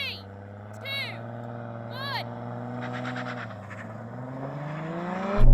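A Toyota Supra Gen 4 with 700 hp and a BMW M3 line up for a drag race, engines droning steadily and rising in pitch as they rev, heard from inside a car with short voice bursts over them.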